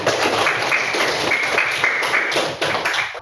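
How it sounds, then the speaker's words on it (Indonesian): A group of children in a classroom coding lesson applaud together, a dense, continuous rattle of small hand claps and taps at close range, with a few thuds and faint voices. "Oke, tepuk tangan semuanya."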